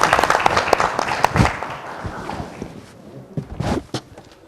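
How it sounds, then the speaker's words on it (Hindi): Studio audience applause greeting a guest walking up to share a family member's story, a burst of clapping that fades after a few seconds, with a brief swell of claps near the end. "जोरदार तालियों के साथ गुप्ता जी।"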